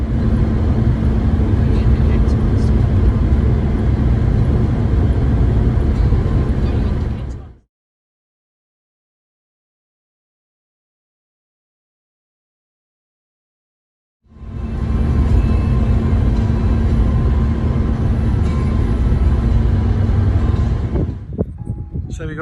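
A new Royal Enfield Himalayan Euro 5 motorcycle engine runs loud and steady at close range, cuts out into a few seconds of silence, then comes back and keeps running steadily.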